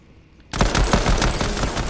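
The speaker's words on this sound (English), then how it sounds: "I'm going to rush him with my gold pistol" Video game gold pistol gunfire bursts in suddenly after a short quiet lead-in, a rapid run of loud, crackling shots that keep going until the end.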